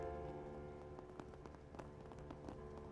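Rain falling in Trails Beyond the Horizon makes a faint, steady patter with soft scattered drop ticks over a quiet tonal background.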